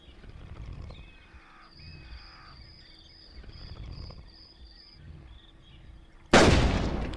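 A sniper rifle shot at a Parasaur in the video game Carnivores Genesis rings out as a single loud, sudden blast near the end, after a stretch of faint ambient forest sounds with distant bird calls.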